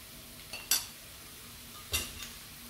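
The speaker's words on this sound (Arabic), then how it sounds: "هفضل اقلب اللحمه مع البصل وهحط عليها ملح وفلفل اسود وبهارات لحمه" A utensil stirs half a kilo of minced meat with a large onion in a pan, giving two quiet clinks and scrapes against a faint, hushed background.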